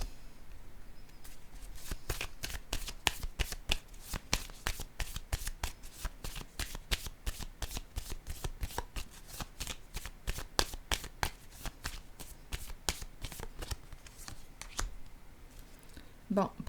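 Fortune-telling cards are shuffled and flicked down one after another in a long run of crisp, rapid snaps, close and steady, with no voice over them.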